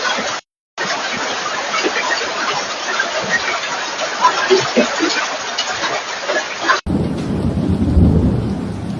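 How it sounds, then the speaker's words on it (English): Queensland hailstorm in Australia with heavy rain and rolling thunder, a dense continuous roar of pelting precipitation with rumbling swells, briefly cutting out and then shifting to a deeper, rumbling wash near the end. "the sound of hail on what remains of their roofs will haunt them for years"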